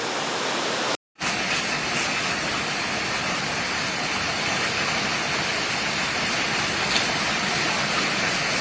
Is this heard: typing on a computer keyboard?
no